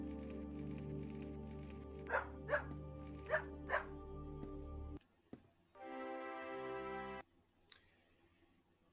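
A puppy in the video game Lassie barks four times in quick succession over steady game music, followed by a short burst of sustained tonal game sound.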